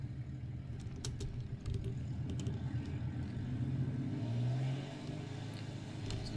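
An aircraft engine in War Thunder runs at full throttle, a loud, steady low droning rumble with a rising tone near the end and faint clicks above it.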